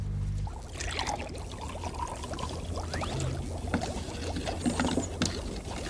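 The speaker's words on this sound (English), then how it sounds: "Pour some vinegar into the smaller container." Vinegar pours steadily into a small container with a trickling, splashing sound over faint background noise, lasting several seconds with no talking.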